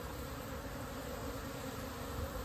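Dense, steady buzzing of many honeybees around a busy spring hive with heavy foraging activity, a close continuous drone that fills the scene without any talking.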